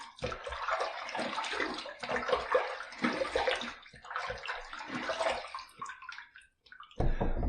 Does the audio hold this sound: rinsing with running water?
yes